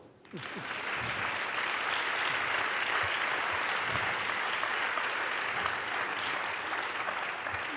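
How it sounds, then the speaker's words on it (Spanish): An audience at a festival talk in a hall gives sustained, dense applause that begins abruptly and holds steady at full strength throughout, with no talking over it. "te vamos a dar un aplauso"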